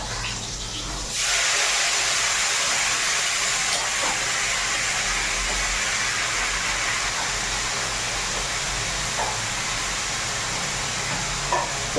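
Nigella seeds and green chillies sizzle in hot oil, a loud, steady hiss that starts abruptly and carries on evenly, with no talking over it.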